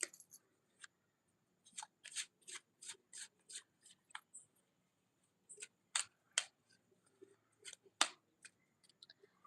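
Cards being shuffled and riffled near the microphone, in quick bursts of crisp flicking with short pauses between, no talking.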